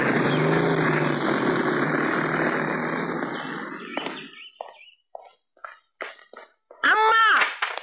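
A motorcycle engine runs with a steady, loud droning roar for about four seconds, then fades out, leaving scattered knocks and a brief voice at the end.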